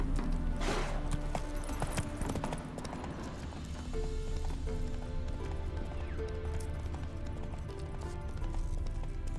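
A horse from the video game The Witcher 3 gallops with quick, rhythmic hoofbeats and lets out a shrill neigh early on, the pounding steps continuing steadily to the end with game music faintly underneath.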